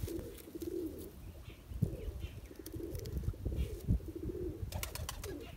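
Border teddy pigeons coo in soft, repeated low rolling phrases at close range, with faint rustling and a few brief knocks mixed in; no one speaks.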